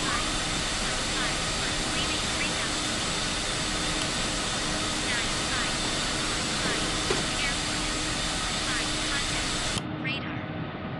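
Loud, steady roar of Airbus A380-800 jet engines climbing out after takeoff, broadband and sustained throughout, cutting off abruptly near the end; cockpit radio calls and crew talk run underneath.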